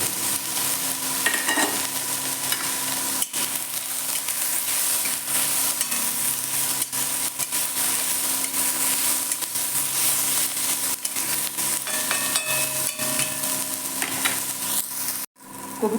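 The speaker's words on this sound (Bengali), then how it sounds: "কপিটা আমার ভাজা ভাজা হয়ে গেছে," Cauliflower with salt and turmeric fries and is stirred in a pan, giving a steady sizzle with scraping stir noises throughout, close and fairly loud, ending in a brief pause near the end.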